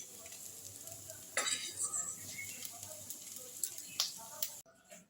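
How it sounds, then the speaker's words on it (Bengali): Pumpkin fritters being lifted out of hot frying oil in a pan, with steady sizzling throughout and a few scraping, clinking utensil sounds against the pan, fairly close. "বাকি কুমড়োর পকোড়াগুলোও আমার ভাজা হয়ে গেছে, এগুলোও আমি এবার তুলে নিচ্ছি।"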